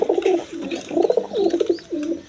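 Gorra pigeons coo repeatedly in a rhythmic series of rolling, throaty calls, loud and close, with brief pauses between phrases.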